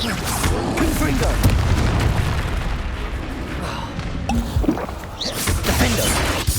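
The Confringo fire blast spell in Hogwarts Legacy on PS5 goes off amid dense combat, with booming impacts and crashing bursts over continuous battle noise and voices.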